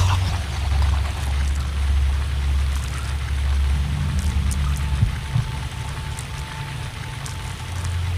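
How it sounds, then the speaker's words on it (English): Shower water in a video game pours and patters continuously with a low rushing hum underneath, steady and fairly loud, no voices. "Take a shower."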